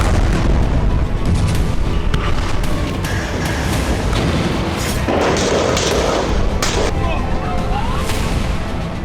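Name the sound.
artillery shelling and explosions in Khan Younis, Gaza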